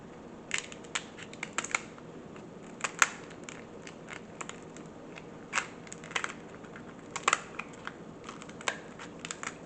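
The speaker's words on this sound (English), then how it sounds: "I use a pair of cooking scissors. And I kind of just cut down the middle." Irregular crisp snips and crunches of kitchen scissors cutting through a hard lobster shell, close by, with short pauses between cuts.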